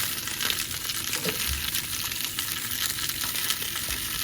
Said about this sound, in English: Okay, the banger's been sizzling away for a while now.